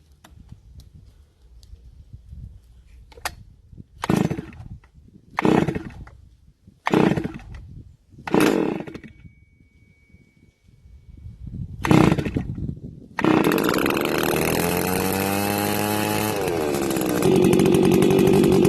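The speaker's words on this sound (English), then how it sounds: "So let's start the engine." A STIHL FS280 brush cutter engine is pull-started with several short sputtering bursts before catching, then it runs steadily and loudly at a high, buzzing idle that rises slightly toward the end.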